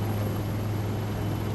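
An army helicopter at a parade ground during an Army Day drill, heard as a steady, loud, continuous rotor-and-engine drone with a low hum throughout.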